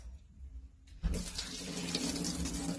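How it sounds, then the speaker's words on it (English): Tap water starts running hard and steadily over raw meat in a kitchen sink, a loud continuous splashing rush that begins after a quiet moment and carries on to the end, with no talking. "I'm going to wash the meat one final time."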